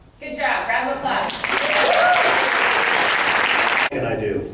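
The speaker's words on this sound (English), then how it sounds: "round of applause." A seminar audience breaks into loud, sustained clapping after a voice speaks, holding steady for a few seconds before cutting off as talking resumes.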